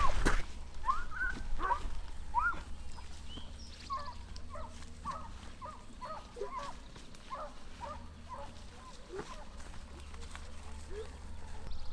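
Bear hounds running a bear track, baying faintly in the distance in woodland, with repeated scattered barks and bawls over a steady outdoor hiss and low rumble.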